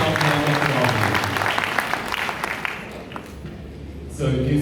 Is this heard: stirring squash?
no